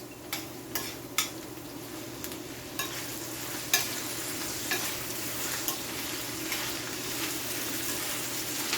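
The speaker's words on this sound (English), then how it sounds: "We're going to allow this to fry for about like 2 to 3 minutes" Two medium tomatoes fry in a pan for a Jamaican-style saltfish cook up, giving a steady sizzle with occasional soft clicks of a spoon stirring, close and moderately loud throughout.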